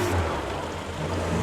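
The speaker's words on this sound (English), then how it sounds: "there's a stock car racer coming" A stock car racer drives by on a road, its engine a rough broadband roar that stays fairly loud and close for the short moment it passes, with no talking.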